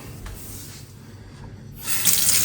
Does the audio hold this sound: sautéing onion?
no